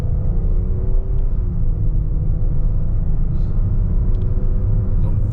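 A Kia Telluride accelerating on a test drive, heard from inside as a steady low engine and road rumble with faint tire noise, continuous and fairly loud, without talking.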